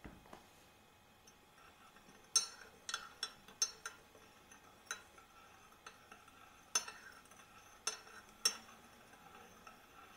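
Teaspoon adding sugar to a cup of Yorkshire Gold tea and stirring, heard as quiet scattered metallic clinks and taps against china, some sharper than others, close and faint with no voices.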